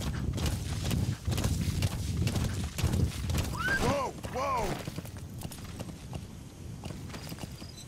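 Horse galloping in Metal Gear Solid 5, a steady clip-clop of hooves with a couple of whinnies partway through, under game music and effects.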